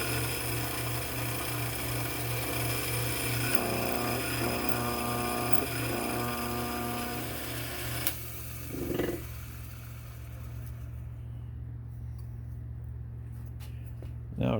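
A drill press bores holes through a metal front skid plate for a TRX truck, a steady motor hum with rhythmic pulsing under the cutting, then the spindle winds down into a quieter tail near the end.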